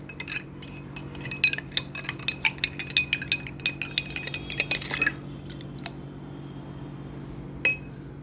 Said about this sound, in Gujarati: એમાં 1 ચમચી ઠંડાઈ મસાલો એડ કરીશું અને તેને હલાવી દઈશું